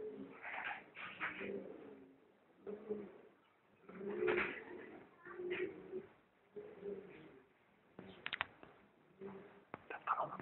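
Pigeons coo in a farmyard corral, with repeated low throaty cooing phrases in an irregular rhythm, fairly faint, with some wing flutters and scuffling between calls.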